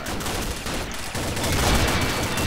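A G36 rifle fires in the online shooter Combat Arms, a dense, continuous rattle of gunfire that grows a little louder toward the end, with no voices.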